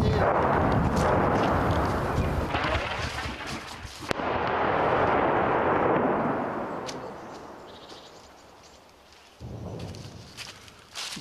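Enemy artillery shelling a town in a war zone, near a hospital: a sustained loud roar of blasts and rumbling fire filling the first eight seconds, fading, then a renewed burst near the end.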